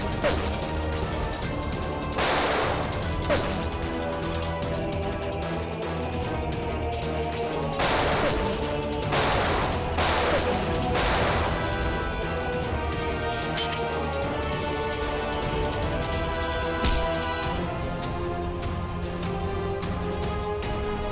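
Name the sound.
gunfire, bursts of shots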